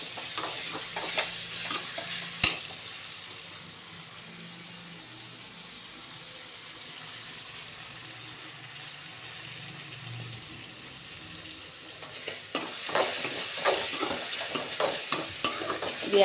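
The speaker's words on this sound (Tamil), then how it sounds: "இந்த தக்காளியை நீங்கள் நல்லா வதக்கும் உங்களுக்கு அது சத்தமே நல்லா" Tomatoes, onion and garlic sauté in oil for an eggplant rice dish, a soft steady sizzle at close range, with sharper clicks and scrapes of stirring near the start and again toward the end.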